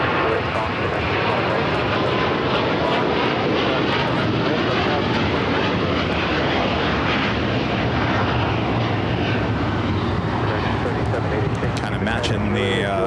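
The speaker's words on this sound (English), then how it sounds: "Taking off, heading back to Taipei. It's Asiana Flight 201 to A380 Super." An Asiana Airlines Airbus A380 takes off at LAX, its engines roaring loud and steady throughout as the jet powers down the runway, with a voice talking over the noise.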